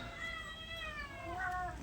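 Newborn kittens in a tractor shed mew for milk, several thin, high, rising cries overlapping close by in a quick steady run.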